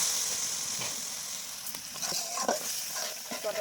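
Paneer curry in a hot pan sizzles and hisses after a little water goes in, with intermittent scraping and stirring sounds close up and no voices.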